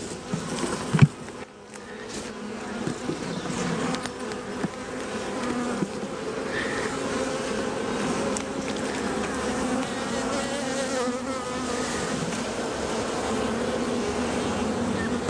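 Honeybees hum steadily around an open hive with a small cluster in the bottom box, a close, continuous buzz with individual bees whining past, a brief bump near the start and no talking.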